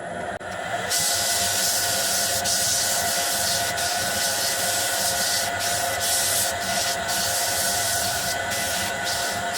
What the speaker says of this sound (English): So I'm going to sand this now.